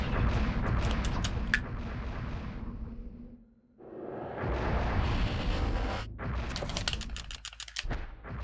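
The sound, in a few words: fireworks in the video game Eternal Darkness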